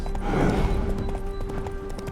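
Horse hooves clip-clop in a quick, steady rhythm in The Witcher 3, close and clear, with no speech over them.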